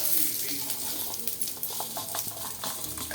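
Dried red chillies and curry leaves sautéing in a pan for a chow chow chutney, with a steady close sizzle and light stirring scrapes and spoon taps throughout.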